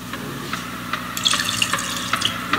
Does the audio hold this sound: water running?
yes